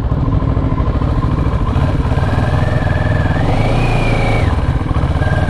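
A 2012 Kawasaki ER-6n motorcycle runs loud and close, its engine and exhaust giving a continuous throbbing rumble with a rising whine as revs climb briefly, then drop back.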